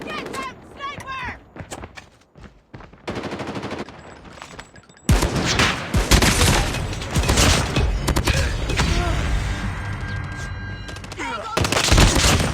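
Sharp, loud shots from an XPR-50 sniper rifle in Call of Duty Mobile sound up close. Heavy, dense gunfire and explosions from the match fill the rest, with game voice lines mixed in.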